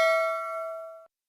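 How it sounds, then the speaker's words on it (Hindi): A single bright bell ding used as a subscribe reminder, struck once and ringing cleanly for about a second before cutting off abruptly. "सब्सक्राइब करते वक्त ना घंटी बजा देना"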